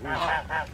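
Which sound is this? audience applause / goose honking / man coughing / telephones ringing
goose honking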